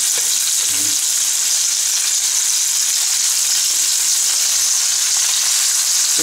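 Prawns frying in a pan, with a loud, dense, continuous sizzle close up that holds evenly throughout, and a faint brief murmur near the start.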